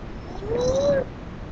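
A young child imitates a cat's meow with a single drawn-out, rising-and-falling meow, close and clear against a quiet background.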